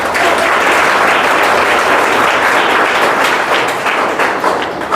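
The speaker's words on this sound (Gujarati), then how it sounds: "તો આપણે સૌ તેમનું તાળીઓથી સ્વાગત કરીએ" An audience at an organization's gathering gives a loud, steady round of clapping to welcome a guest and his friends, close and unbroken for the whole stretch.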